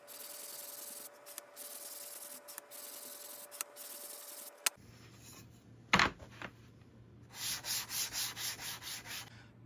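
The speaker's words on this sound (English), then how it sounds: "I'm going to hand sand a 120 grit on the roundovers now" Hand sanding MDF roundovers with 120-grit paper, scattered taps and scrapes early on, then a run of rhythmic rasping strokes close by toward the end, with no talk.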